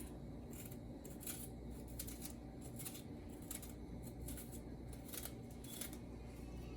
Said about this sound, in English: My sweet pepper, I'm cutting up my sweet pepper on the cabbage.